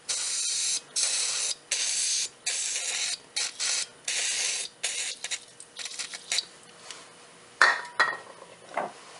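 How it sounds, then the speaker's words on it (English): Penetrating oil sprayed from an aerosol can onto a sway bar link under a Ford Contour, a series of close hissing bursts of varying length, ending with a few metallic clinks. "I'll put some penetrating oil on that."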